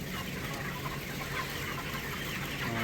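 Broiler chickens, about 27 days old, clucking together in a poultry shed, a dense steady flock murmur with overlapping calls and no speech.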